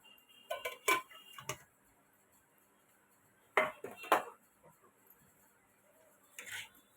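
A spoon clinks and scrapes against a pan as prasad sheera is stirred with sugar and cardamom. The sound comes in three short bursts of metallic tapping with quiet pauses between them, fairly soft and close.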